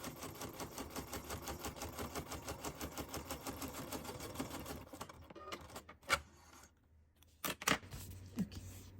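A sewing machine rattles rapidly and evenly while stitching a time card flip book for about five seconds, then stops, followed by a few scattered clicks and handling noises nearby.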